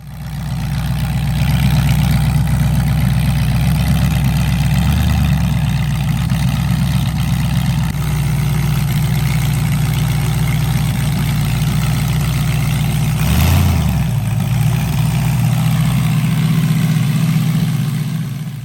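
A freshly refreshed car engine runs strapped to a dyno ahead of nitrous pulls, a steady loud low idle droning throughout with a couple of brief dips and a short blip near the end.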